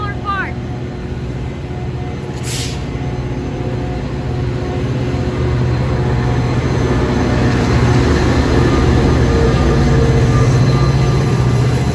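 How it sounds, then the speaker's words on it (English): An inbound Metra commuter train rolls past at Rosemont, a steady loud rumble of wheels and cars building over the stretch, with a brief high squeal near the start and people talking beneath it. "All right, here goes inbound Metro 116."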